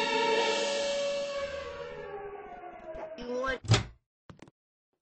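A heavy bunker door slams shut in a video game, landing as a single loud thud after a long siren-like tone fades, with a couple of faint knocks trailing after.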